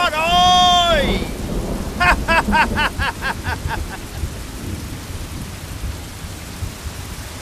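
Heavy rain in an animated folk tale pours as a steady hiss beneath a bright tonal chime and a run of quick chirping pulses. The rain fades toward the end, and no clear thunder stands out.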